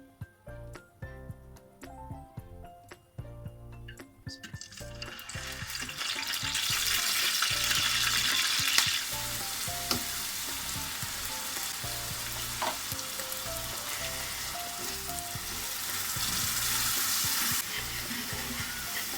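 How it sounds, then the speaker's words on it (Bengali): A few seconds of quiet tonal sounds give way to a broad, steady sizzle as a chili spice paste is sautéed in a pan for a radish and chicken curry. Faint clatter sits under the frying. "মরিচ মশলাটুকু কষিয়ে নিলাম"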